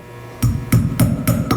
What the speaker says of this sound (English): I like to take a hammer,